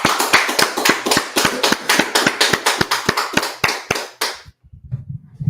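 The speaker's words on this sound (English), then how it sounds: "let's clap it up" Hands clapping in a sharp, evenly spaced rhythm, about twenty crisp claps close by, stopping abruptly near the end and leaving near silence with a faint low murmur.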